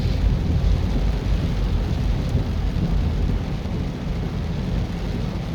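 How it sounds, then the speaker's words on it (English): Heavy rain roars steadily in a dense, low rumble, like a downpour drumming on a moving car during a drive in Kingston, with no voices. "So heavy rains in Kingston."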